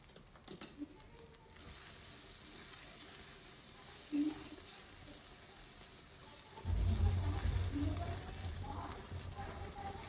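Shing (stinging catfish) roe frying slowly in a pan with onion, green chili, turmeric and salt, a steady soft sizzle with occasional stirring clicks, rising to a louder, fuller crackle in the last few seconds.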